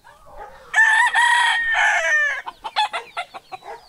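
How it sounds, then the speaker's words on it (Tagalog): A rooster on a small backyard flock lets out one loud, close, drawn-out crow, followed by a quick series of short clucks from the chickens. "Yan lang naman yung manok natin dito."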